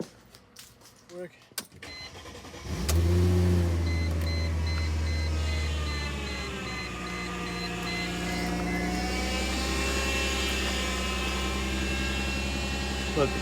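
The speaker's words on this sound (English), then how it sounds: "We'll start the car, let it run for a minute, and then turn the car off and continue this process." A Mercedes-Benz W203 C240 cranks briefly then starts and settles into a steady low idle, close and loud, with a faint high whine running above the engine drone.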